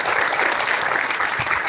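An indoor audience gives dense, sustained applause, a loud, even wash of many hands clapping for successful IIT JEE students at an academy felicitation event.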